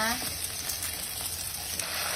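Food sizzles and fries steadily in a pan with butter added at the edge, a close, continuous crackling hiss with faint stirring.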